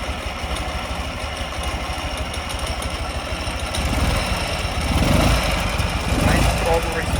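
A customized 2004 Ural Tourist motorcycle engine runs close by with a steady low chug, swelling louder as the throttle is blipped near the end while a voice talks over it.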